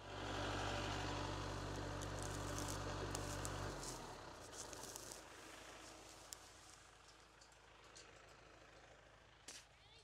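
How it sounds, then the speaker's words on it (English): A farm tractor engine idles with a loud low rumble, then shuts off after about four seconds, leaving quieter outdoor background with a few small knocks. "They see Brooke on that tractor with that hay bale"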